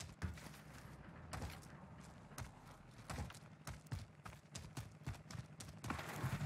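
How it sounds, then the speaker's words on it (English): Enemy footsteps thud irregularly nearby in Call of Duty Warzone, a quick series of close, sharp impacts with no talk over them. "There are footsteps right next to us."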